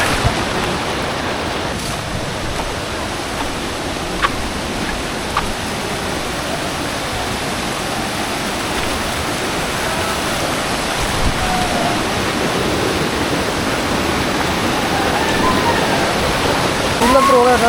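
Kalu waterfall in God's Valley, Malshej Ghat, Maharashtra: a loud, unbroken roar of falling water fills the whole stretch, with a few faint knocks and brief voices buried in the rush.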